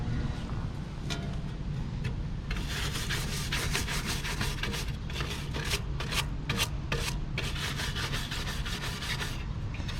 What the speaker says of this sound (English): let me scrub that blade, and then we'll finish rinsing it